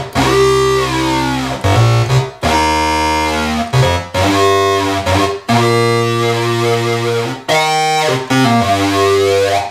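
Restored Moog-style analog synthesizer using oscillator sync and the pitch wheel: loud, bright, buzzy sustained tones with sweeping, tearing harmonics, played in a series of separate phrases, close and with no talking.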